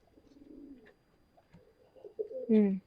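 A pigeon held in the hand gives low, rolling coos nearby, a soft murmur early on and a louder, fuller coo near the end, with a little quiet talk around it.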